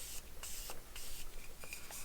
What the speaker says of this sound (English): I'm going to give my face a quick spritz with some Morphe setting spray